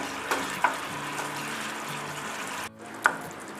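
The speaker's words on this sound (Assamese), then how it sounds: "এনেধৰণে ফুট অহাকৈ এইখিনি উতলিবলৈ 2 মিনিট সময় গ্ৰেভিটো এৰি দিব লাগিব" Fish curry gravy in an Assamese home kitchen bubbling and sizzling in a pan, a steady close hiss with a few small pops and a brief clink near the end, with no talking.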